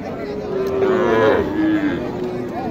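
A cow lows loudly in a single drawn-out moo, nearby at a busy cattle market in Naogaon's Dighirhat, with Sahiwal bulls and local cattle present and faint crowd noise behind it.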